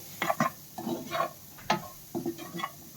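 Masala sweet corn sautéing in a pan, with a faint sizzle under intermittent scraping and clinking of a spoon against the pan, close and without talk.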